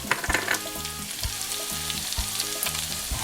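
Garlic and unsalted butter sizzle steadily in a hot pan for garlic shrimp noodles, a dense continuous frying hiss with periodic low scraping knocks of stirring on a regular rhythm, close and fairly loud.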